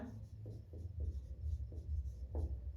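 Chalk scrawling across a school blackboard in several short strokes and taps, close and fairly clear over a low steady hum, with no talking.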